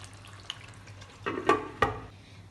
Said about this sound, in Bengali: এবার একটু হালকা নাড়িয়ে নেব